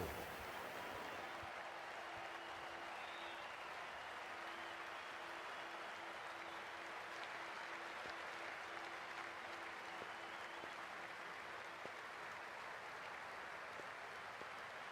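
Steady stadium applause from a large cricket crowd in Cricket 24 during an IPL 2024 match between DC and PBKS, continuous broadband clapping sustained evenly for the full stretch with a faint tonal hum beneath.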